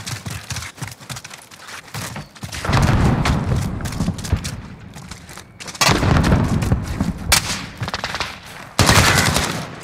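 Rapid bursts of gunfire from a shooter video game, loud and close, with dense automatic fire and short gaps, growing heavier in sustained volleys toward the end.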